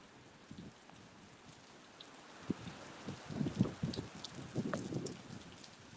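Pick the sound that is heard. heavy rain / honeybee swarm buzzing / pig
heavy rain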